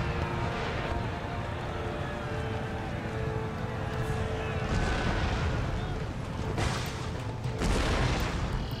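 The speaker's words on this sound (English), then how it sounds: "Let's just blast them with a shrapnel shot, if we can get any shots off." Artillery in Empire Total War firing shrapnel shot, heavy booming blasts at about 5, 6.7 and 7.7 seconds over a constant low battle rumble.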